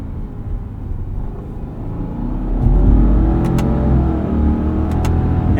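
A 2024 Subaru Outback Touring XT driven in manual mode gives a steady low engine and road rumble from inside the cabin, swelling slightly partway through as it coasts off throttle.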